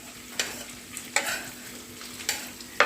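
Onion, capsicum and carrot go into a hot pan together and fry with a light sizzle, punctuated by four sharp stirring scrapes spaced about a second apart.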